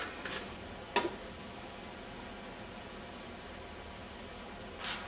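Spaghetti sauce with garlic powder being stirred in a pan, a soft continuous simmering hiss with a couple of brief utensil scrapes against the pan.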